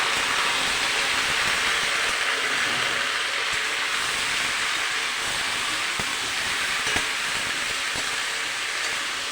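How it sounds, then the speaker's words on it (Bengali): Mixed vegetables seasoned with salt and turmeric fry in a pan for khichuri, a steady, dense sizzle and hiss that holds evenly throughout with faint clicks and no talk. "ভালো করে এবার ভেজে নেব।"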